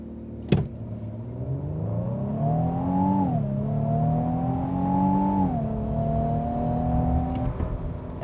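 A 2025 Infiniti QX80 Autograph in sport mode pulls hard from a brake-torqued standstill, its engine note climbing steadily through two upshifts with a clear dip at each change, loud and close throughout.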